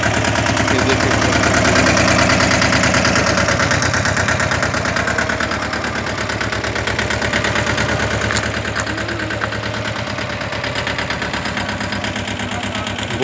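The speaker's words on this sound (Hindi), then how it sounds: "ये वो ट्रैक्टर है" A Kasana tractor loader idles with a steady, loud diesel throb and a constant mechanical rumble, running without pause and with no voices.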